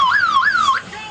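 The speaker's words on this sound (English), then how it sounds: "Alarms go off." An electronic alarm at a firefighter competition tower wails loudly and close up in a rising and falling siren sweep, repeating about three times in just over a second before it cuts off.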